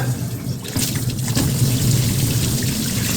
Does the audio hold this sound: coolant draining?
yes